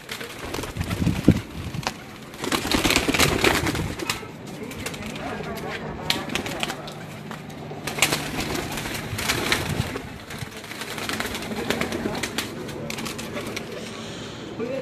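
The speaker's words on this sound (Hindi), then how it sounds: "ये एक और लाल परी कबूतर आपको दिखा दें।" Lal Pari pigeons coo softly and repeatedly in the background while people talk over them on a rooftop, with occasional rustling and bumps nearby.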